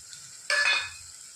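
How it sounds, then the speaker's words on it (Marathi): A short burst of masala frying in oil in a pan, with stirring scrapes, flares up for about a third of a second and then settles into a faint background. "आता या मसाल्याचं चांगलं तेल सुटेपर्यंत परतून घेऊया."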